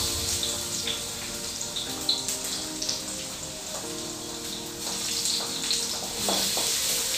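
Garlic sizzles steadily in hot cooking oil in a pan, a soft continuous crackle and hiss, close and fairly quiet, with no talking.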